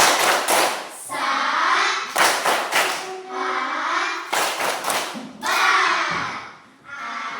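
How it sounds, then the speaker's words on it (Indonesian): A group of children in a primary classroom clap in rhythm to the 'tepuk sahabat' chant, sharp bursts of hand claps in repeated patterns with their chanting voices mixed in, loud and close. "Ibu mau kita dulu tepuk sahabat"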